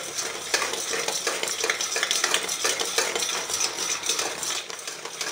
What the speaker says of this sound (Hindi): आप इसके अंदर लगातार हिलाते जाइए, चम्मच को रोके नहीं बिल्कुल भी